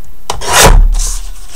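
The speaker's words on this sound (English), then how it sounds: "I'm going to cut this 1/2 inch off as well because we don't need it." Paper being cut for a tiny handmade book, a single short rasping slice that swells and fades over about a second, close and clear with no talking.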